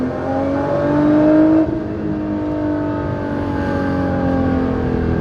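A Nissan GTR running E85 pulls hard through second gear from about 50 mph, its engine note rising steadily and loud with harmonic layers climbing in pitch, a brief dip partway through, then continuing strongly to the end.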